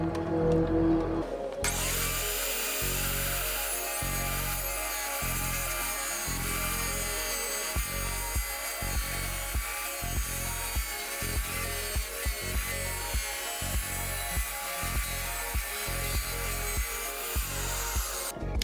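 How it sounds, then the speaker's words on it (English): Diamondback 10-inch wet tile saw with a spinning blade mitering porcelain tile, a loud continuous motor whine broken by a rapid series of rhythmic grinding pulses as the blade works through the cut. "Let's miter this end."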